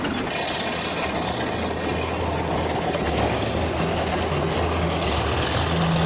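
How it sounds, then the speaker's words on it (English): An Alfred County Railway train in South Africa hauling a few empty wagons trundles steadily along a hilly line, with a continuous loud rumble and clatter of rolling wheels filling the scene without any voices. "The line meanders between the hills as we trundle along at a sedate pace."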